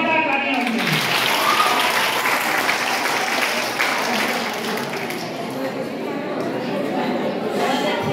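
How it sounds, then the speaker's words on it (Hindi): A school audience claps loudly and continuously for Dr. Rajni Agarwal, a thick, even roar of many hands that dips slightly midway, with faint voices under it. "डॉक्टर रजनी अग्रवाल का जोरदार तालियां होंगी"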